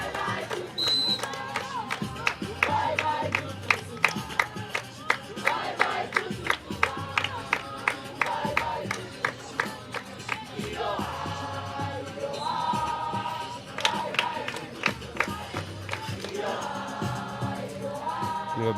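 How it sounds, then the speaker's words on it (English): Crowd at a youth volleyball match at the Region 5 Youth Games, a continuous roar of cheering and shouting with repeated sharp claps and rhythmic taps throughout. "You can hear the crowd behind us here."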